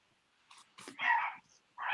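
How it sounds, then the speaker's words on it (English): Several dogs bark in a home, a couple of short yips followed by two louder, fuller barks at moderate distance, with quiet gaps between them. "those dogs are very acting up right now."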